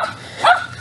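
A dog gives a single short bark or yip near the middle, fairly close and moderately loud, set against a quiet room background with no talking.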